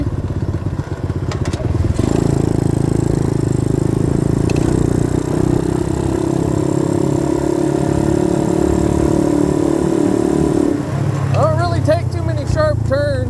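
A 90cc dirt bike engine drones steadily and loudly while riding on wet roads, with constant engine rumble and road noise throughout and a voice speaking briefly near the end.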